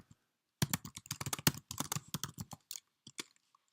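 Rapid typing on a computer keyboard, a quick burst of close, crisp key clicks that slows and trails off into a few final taps.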